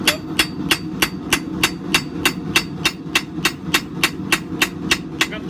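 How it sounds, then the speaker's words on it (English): A lighter hammer smooths a forged coil spring knife with rapid, evenly spaced metallic strikes, around twenty crisp ringing blows in under six seconds, near and loud with no voices. "So I'll switch to a lighter hammer, just trying to get everything smoothed up."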